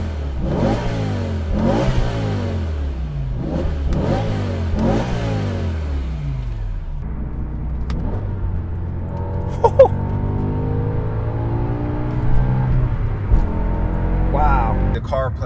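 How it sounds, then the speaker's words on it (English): A BMW M5 E60 with its V10 engine revs hard in several rising, sweeping bursts, then settles into a steady, loud drone as it pulls away, with brief sharper blips near the end and no talking. "let's enjoy some more V10 noises"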